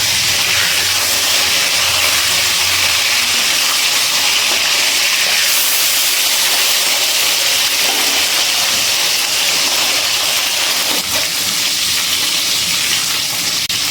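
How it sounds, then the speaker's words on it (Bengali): Bata fish fry in hot oil over medium heat as the pieces are turned to the other side, a loud, continuous sizzling hiss that fills the whole stretch without pause. "এবার আমি এক পাশ ভাজা হয়ে গেছে আর অন্য পাশে একটু উল্টে দিচ্ছি ভাজার জন্য।"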